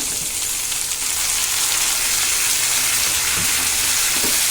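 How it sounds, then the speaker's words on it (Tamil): Tomatoes sizzle and fry with softened onions in a pan for Tamil tomato chutney, a steady close, loud hiss filling the whole stretch with faint stirring knocks near the end. "இதை போட்டு நல்லா கிண்டி வதக்கிக்கோங்க"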